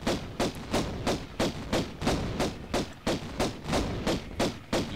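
An enemy in the Tomb of Tihocan in Tomb Raider I firing projectiles: a rapid, even string of about a dozen heavy thumps, each one a punchy hit with a short tail, repeating steadily.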